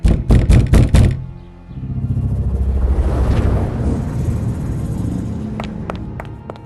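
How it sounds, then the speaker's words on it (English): Several loud, heavy bangs in quick succession, like pounding on a door, then give way to a sustained rumbling noise and a few faint knocks. "eventually having to bang on the door."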